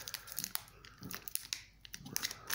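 A Pokémon card booster pack wrapper crinkles and crackles in repeated short bursts, close and fairly quiet, as someone struggles to open the foil packet.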